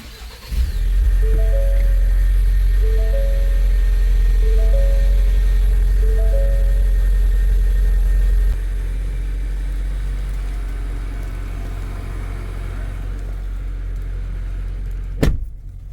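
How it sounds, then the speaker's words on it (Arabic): A 2025 Ford Explorer is started with a push button: the engine cranks and catches, then settles into a loud, steady idle while chime tones repeat, and the idle drops slightly lower midway. "نسمع الآن صوت تشغيل فورد إكسبلورر."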